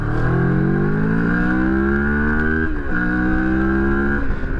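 Moto Morini X-Cape motorcycle with a 60-horsepower engine pulling hard on a fast highway, its engine note climbing steadily in pitch, briefly dipping at a gear change, then rising again, loud and continuous with wind and road roar.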